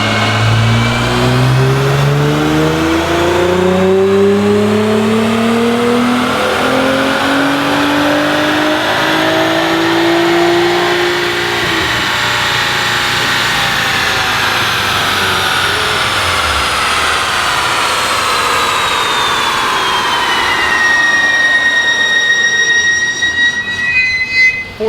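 Nissan GT-R car engine revving hard on a dyno, a loud sustained wide-open run with rising then falling pitch across the whole stretch, rising again near the end.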